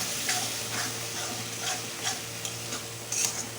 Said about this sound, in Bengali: জল দিয়ে ভালো করে মিলিয়ে নেব মিলিয়ে একটু কষিয়ে নেব